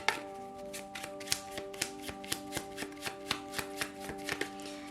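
A deck of tarot cards is shuffled by hand in crisp, evenly spaced slaps and taps, close and moderately loud, over steady background music.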